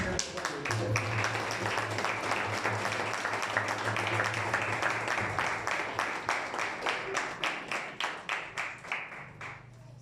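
Church congregation at a Christmas sermon applauding, a full round of clapping that gradually thins into slower, separate claps as it dies down, with a voice speaking underneath early on.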